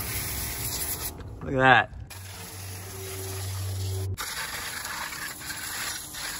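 A short hiss of degreaser sprayed onto a Fisker Karma engine block and valve covers rises and cuts off in about a second. A brief spoken remark and steady hum from the surroundings follow.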